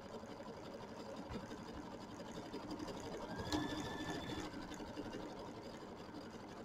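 A sewing machine stitches steadily while winding a bobbin, a quiet continuous mechanical whir with fine rapid ticking and a brief higher whine partway through.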